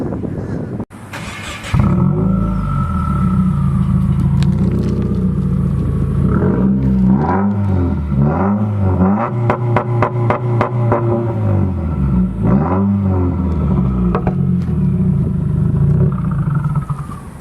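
A Subaru WRX engine, 2015 or later, with an aftermarket exhaust, starts up and then revs repeatedly, rising and falling in several sweeping blips with a deep, loud, close rumble that carries throughout.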